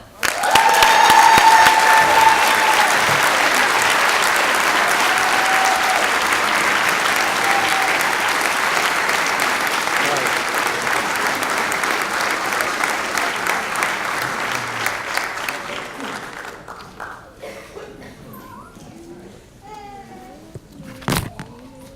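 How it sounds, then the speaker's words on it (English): Loud applause fills a hall at a DC Fire and EMS recruit class graduation as a recruit is honored, a broad crowd clapping that holds steady, then fades out to near quiet with a few scattered sounds. "let's give a round of applause to recruit Tyler Clark"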